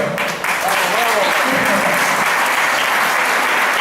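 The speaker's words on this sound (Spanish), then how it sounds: "Un aplauso para todos." Loud, dense applause from a large audience at an end-of-year dance school gala festival, starting just after a brief voice and holding steady to the end.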